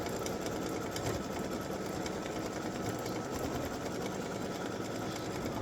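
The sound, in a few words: embroidery sewing machine stitching text on a mug rug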